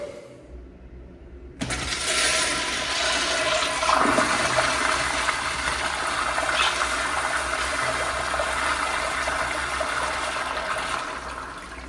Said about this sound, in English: so we're gonna go ahead and flush the toilet